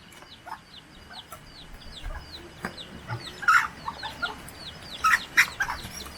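Chickens cluck and squawk as costumed performers chase them, with frequent sharp calls over a busy outdoor background, rising in intensity toward the end with no clear talk.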